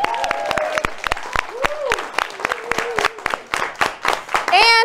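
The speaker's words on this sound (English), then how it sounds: "Let's clap for that." Audience claps during a late-night comedy show segment on the Democratic National Convention in Chicago, sharp separate hand claps in a loose sparse rhythm with voices and whoops over them.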